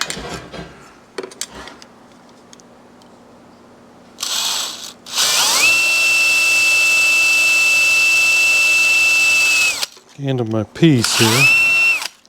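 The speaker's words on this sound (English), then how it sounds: "I'm drilling a hole in here" A power drill bores a hole in a Yamaha 250MX air box, spinning up into a long steady high whine, then a few shorter bursts with changing pitch; someone speaks briefly between runs.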